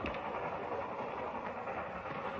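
A train in an old Western film rumbles steadily with a dense, even roar and faint rail clatter, close and continuous with no talk.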